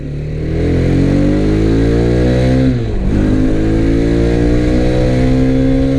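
A 2021 Mahindra Mojo 300 ABS BS6 motorcycle engine drones loudly and steadily close up while riding, its pitch dipping briefly during a gear change and then climbing again under acceleration.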